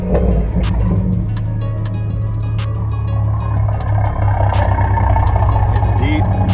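Toyota GR Supra A90 running in sport mode with a Magnaflow xMod cat-back exhaust and catless downpipe, giving a steady, deep, loud exhaust drone with turbo whine and clicks above it, nearby and continuous.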